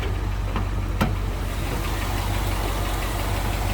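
A 1962 Ford Galaxie 500 XL convertible with its 390 V8 idles steadily and loudly up close, a deep continuous rumble with a slight rhythmic pulse and no talking.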